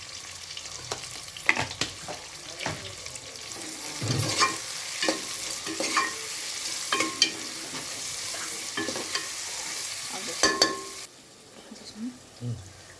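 Sliced onions fry in a pan with a pinch of salt while a spoon stirs them, a steady sizzle broken by scraping strokes and clinks, close by, before the sizzle quiets near the end.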